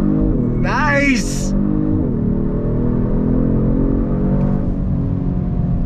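A 2022 Genesis G70 Sport sedan pulling away from a slow roll under throttle, its engine drone loud and close and rising steadily, with a brief high whine and a voice early on.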